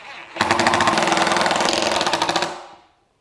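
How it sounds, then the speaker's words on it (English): A power driver runs 3/4 inch flat-top screws into a plywood jig, giving a loud, steady buzzing whir that lasts about two seconds before winding down. "And then drive these screws into place."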